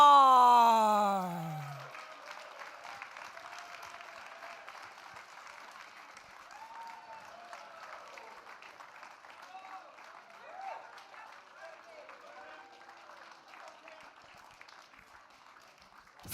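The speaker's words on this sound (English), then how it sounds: "keep your applause going for Mr. Zhang Yudi." Applause rises from an audience at the Microsoft Excel World Championship finals, a steady clapping wash lasting many seconds after an announcer's voice at the start, with faint cheers mixed in.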